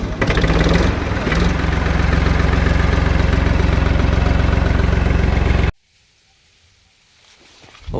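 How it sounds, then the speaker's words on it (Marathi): A farm tractor engine idles with a loud, steady, close rumble for about six seconds, then cuts off abruptly, leaving near silence before faint sounds creep back in. "आलोय बघा ट्रॅक्टरपाशी."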